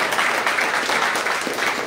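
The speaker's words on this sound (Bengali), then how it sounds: "জোরে হাততালি একবার, জোরে জোরে জোরে।" Audience clapping fills the space in a dense, continuous burst, steady and fairly loud throughout, with no pauses and no voices on top.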